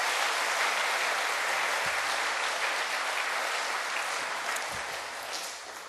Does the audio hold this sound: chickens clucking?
no